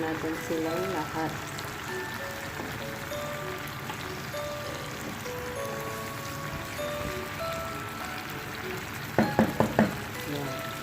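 Sponge gourd (patola) and other vegetables cook in a pan with a steady soft sizzle and bubbling, while a voice talks over it and a few sharp clinks of a utensil stirring come near the end.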